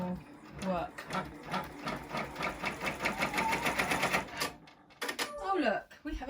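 Embroidery machine stitching an in-the-hoop teddy, a rapid, rhythmic mechanical tapping that runs close and steady, pauses briefly, then resumes, with a voice talking over it.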